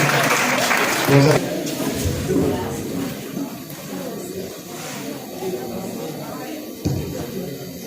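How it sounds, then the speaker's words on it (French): Audience applause for a student speaker at a youth eloquence competition in Bouhou, a loud burst of clapping in the first second that thins into a steady patter of a hall crowd, with voices murmuring underneath. "S'il vous plaît, vos applaudissements, s'il vous plaît"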